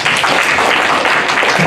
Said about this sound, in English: Can you join me in giving Professor Khasru a round of applause?